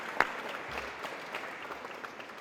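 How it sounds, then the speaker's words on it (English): An audience at a humanities awards broadcast applauds in a soft, steady, distant patter, with one sharper clap near the start. "One more quick round of applause."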